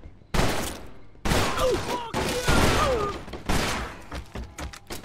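Bursts of gunfire in the Mafia 2 video game, several rapid volleys of shots with sharp onsets and ringing tails, loud and close, one after another.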